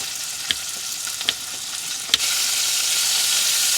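Pepperoni and scrambled eggs fry in a pan on a stove inside a van, giving a steady close sizzle with a few soft clinks and stirring knocks early on before the frying swells louder and evens out.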